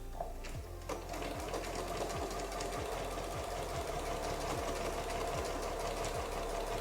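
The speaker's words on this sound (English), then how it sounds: "I'm letting the walking foot do the sewing and pull" A sewing machine fitted with a walking foot quilts through layered fabric, humming steadily up close with a regular, faintly thumping needle rhythm throughout.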